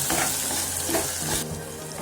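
Tomato and onion masala with coriander powder sizzles and crackles in oil in a pan as it is stirred, a steady close frying hiss with faint scraping and no voices.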